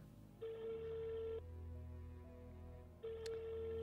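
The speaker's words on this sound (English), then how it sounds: "Come on, pick up the phone." Phone ringing in the video game Almost My Floor: two loud electronic ring bursts with a steady tone, separated by a quieter pause, with no talking.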